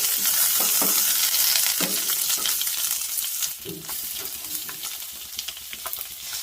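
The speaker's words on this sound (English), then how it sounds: "half spoon of urad dal, half spoon of chana dal, 3 to 4 tablespoons of peanuts. Roast for a while." Urad dal, chana dal and peanuts roasting with curry leaves in hot oil, a loud dense sizzle with stirring scrapes; the frying softens partway through and continues with light crackles.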